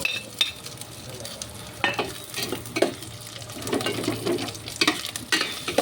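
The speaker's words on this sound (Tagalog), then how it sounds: "ilagay na natin yung ating squid ball igisa natin ng konti sabay na rin natin yung ating sikyam" Squid balls and fish cake are sautéed in a pan for Batangas lomi, giving a soft sizzle under repeated scraping and stirring sounds that come in uneven bursts, close and without any speech.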